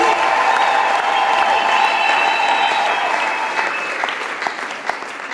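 A church congregation in Rwanda claps together in sustained, dense, loud applause that tapers slightly toward the end.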